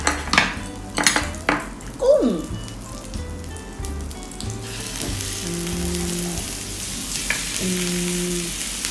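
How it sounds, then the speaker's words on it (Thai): Shrimp sizzle and fry in melted butter in a pan, a steady crackle under sharp clinks and scrapes of a utensil against the cookware, heard close up with no talking. "พอเนยเริ่มละลายแล้วเราก็จะใส่ ใส่กุ้งไปเลยค่ะ"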